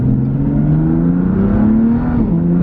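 A BMW F80 M3 running a Bootmod3 Stage 2 tune accelerates around town, its engine drone rising steadily in pitch, loud and close from inside the cabin, then dipping briefly near the end as it shifts.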